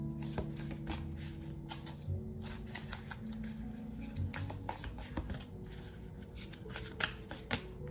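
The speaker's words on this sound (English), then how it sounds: "Let me pull out another card and see what other lifetime that we shared." Tarot cards shuffled and pulled from the deck, a close, quiet run of rapid papery riffles and flicks with sharp snaps as cards are drawn, no talk.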